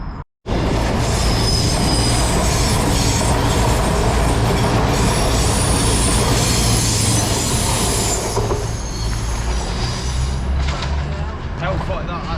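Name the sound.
Voyager train at Manors station platform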